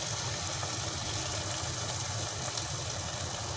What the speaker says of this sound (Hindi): अब मैं इसके अंदर थोड़ा सा पानी डालूंगी